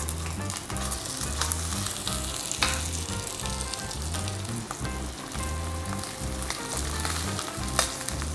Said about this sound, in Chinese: 就將兩件羊膝咧擺埋落去煎咗佢先